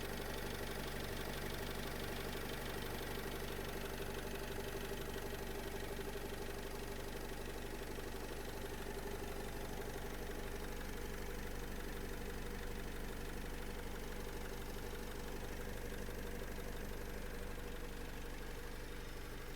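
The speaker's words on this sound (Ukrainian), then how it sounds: "От робота мотора Євро 5." The Euro 5 2.0-litre, 115 hp diesel engine of a 2012 Opel Vivaro long-wheelbase passenger van idles steadily with a rhythmic knocking chug, close and constant throughout, with no voices.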